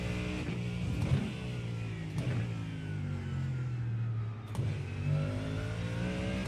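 A GT3 race car in the iRacing video game at Misano, its engine revving and droning with rising and falling pitch through gear changes, steady and prominent with no voices.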